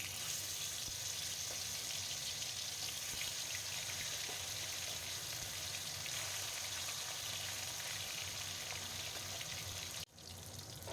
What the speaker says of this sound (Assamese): মাছখিনি ফ্ৰাই কৰি ল'ম।